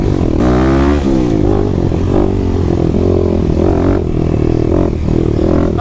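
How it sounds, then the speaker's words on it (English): A 2021 Kawasaki KLX300 dirt bike fitted with a Barker exhaust revs loudly up close, the engine note rising and falling through several throttle blips with a rough, barking tone. "First ride with the Barker exhaust on the KLX300"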